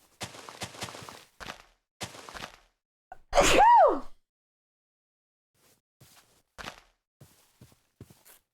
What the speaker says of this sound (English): I love sneezing.